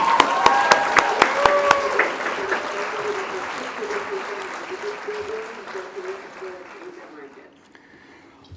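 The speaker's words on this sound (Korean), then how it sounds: "다시 한번 우리 카오리탐슨 사장님께 뜨거운 박수 부탁드리겠습니다" Seminar audience giving warm applause to a company president, loud dense clapping that gradually thins and dies away, with a voice speaking over the start.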